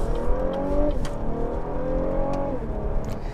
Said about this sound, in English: the engine noise is not good. It sounds a lot like a V6 and a Toyota minivan